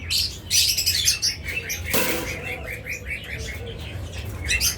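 A pair of pet budgerigars, blue opaline, chirp and chatter in quick bright bursts close by, with a short flutter of wings in the middle and continuous twittering throughout.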